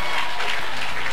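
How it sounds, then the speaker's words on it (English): A church audience applauding, a dense, loud wash of clapping filling the short moment without a break. "Clap your hands together for"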